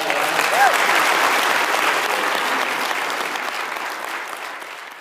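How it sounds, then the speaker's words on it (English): A live audience claps for a speaker's recovery milestone, dense sustained applause close by that slowly tapers toward the end. "Let's give a round of applause for that."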